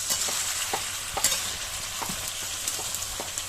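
Potatoes and pointed gourd sautéing with spices in a pan, a steady close sizzle with repeated scraping stirs throughout.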